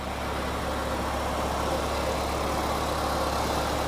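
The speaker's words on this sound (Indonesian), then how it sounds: "Dan ini untuk suara mesinnya." A 2004 Suzuki Baleno Next-G facelift idles steadily with a smooth, even engine hum, close and unbroken for a few seconds with no talking.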